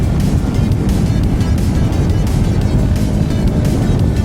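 A 2023 GasGas SM 700 single-cylinder supermoto pulls hard under acceleration, its engine roaring loud and steady with a dense, rumbling drone that stays close and constant throughout, with no voices.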